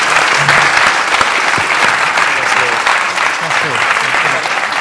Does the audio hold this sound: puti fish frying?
no